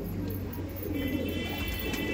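Saharanpuri pigeons coo softly in a low, throaty murmur against continuous background noise, the cooing steady and close throughout the short stretch.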